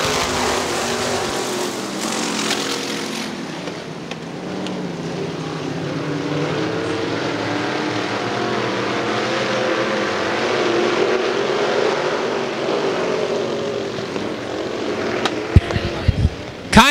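IMCA modified race cars roar off together at a green-flag start at Ionia Raceway Park, a loud, sustained blended engine drone that swells and holds steady, with a burst of sharper crackles near the end.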